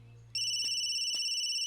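A telephone in a Bhojpuri movie scene starts ringing after a brief low hum, holding a loud, steady electronic tone for over a second.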